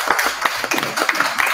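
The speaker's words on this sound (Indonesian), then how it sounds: "Silakan berikan tepuk tangan." Audience clapping at a cooperative's annual members meeting, brisk close-up hand claps with distinct individual slaps, lively and uneven over a short burst.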